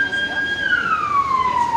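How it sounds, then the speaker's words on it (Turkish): A loud ambulance or police siren wails on a street, its steady tone sliding lower in pitch as the vehicle passes close by, with no talking over it. "Ambulans geliyor galiba. Polis mi ambulans?"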